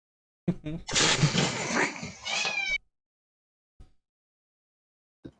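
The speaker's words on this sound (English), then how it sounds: "I've been loving your cat, by the way." A cat lets out a drawn-out, wavering meow lasting a couple of seconds, close and fairly loud, followed by a few faint brief sounds amid otherwise quiet surroundings.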